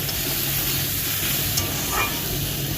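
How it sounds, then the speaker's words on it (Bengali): Turmeric and salt frying in hot oil, giving a loud, dense, continuous sizzle, close and unbroken, with a faint scrape partway through. "আগে হলুদ আর লবণটা দিয়ে ভালো করে ভেজে নিই"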